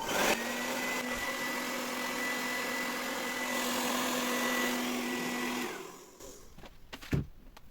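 A hair dryer wrapped in tape runs with a steady whirring motor and constant high whine for several seconds, then switches off, followed by a few soft clicks and handling noises.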